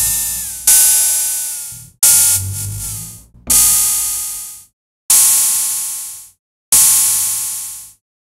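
Five synthesized cymbal hits from a Korg MS-20 Mini analog synthesizer each start as a bright, loud noisy crash and decay over about a second, spaced evenly with short silences between them.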